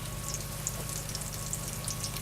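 Chicken cutlets browning in a skillet, a soft, even sizzle with light crackling pops held steadily throughout, fairly quiet and with no voices.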